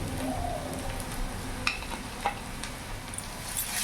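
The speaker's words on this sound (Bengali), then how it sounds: "এবার এখানে আমি আদা রসুন লঙ্কার পেস্ট দিয়ে দিলাম।" Ginger, garlic and green chili paste sizzles in hot oil in a pan while cooking okra with yogurt, a steady close frying hiss broken by a few small pops and stirring sounds.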